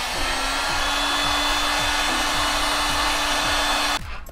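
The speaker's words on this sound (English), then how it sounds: "why are you pointing hit the heat gun at the ABS?" A heat gun blows a steady, loud airy whoosh while shrinking heat shrink tubing over a wire on a Voron 2.4 3D printer, then cuts off near the end.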